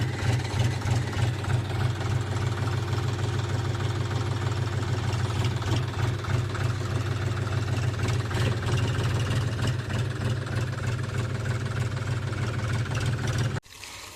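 A tractor engine idles steadily on a farm, a loud continuous low rumble with a mid-range mechanical clatter that holds for about thirteen seconds before cutting off abruptly near the end.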